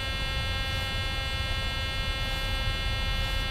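A cockpit warning alert in a PMDG 737 in Microsoft Flight Simulator 2020 during approach, heard as a steady, continuous electronic buzzing tone that runs unbroken and fairly faint throughout.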